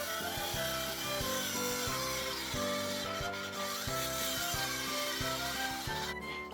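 A battery circular saw fitted with an undersized blade cuts through a pallet slat, giving a steady, loud grinding rasp with rhythmic pulses throughout and no talking.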